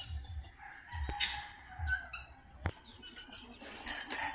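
Chickens and young chicks on a farm in a newly built range, with clucking and a rooster-like crow, soft peeping, and a few sharp calls at moderate distance.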